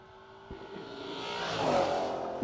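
1971 Plymouth Cuda drag car with a third-generation Hemi engine at a drag strip, revving up into a loud rising roar that builds over a couple of seconds, alone with no talk.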